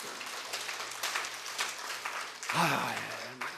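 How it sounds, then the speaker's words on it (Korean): A church congregation applauds during a sermon, a moderate wash of clapping that stays fairly distant, with a voice breaking in near the end. "왜 남 잘 됐다는 때 박수 좀 쳐줘요."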